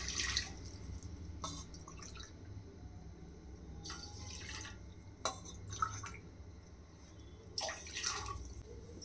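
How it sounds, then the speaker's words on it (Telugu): Water is poured over rice in a cooking pot for jaggery rice, heard as faint intermittent splashes and trickles over a quiet kitchen background. "1 గ్లాస్ రైస్కి 4 గ్లాసు వాటర్ వేస్తున్నా"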